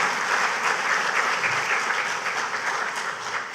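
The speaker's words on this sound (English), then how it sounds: "Give yourselves a round of applause for being here this morning" A conference audience claps steadily, a dense wash of applause that holds for a few seconds and tapers slightly at the end.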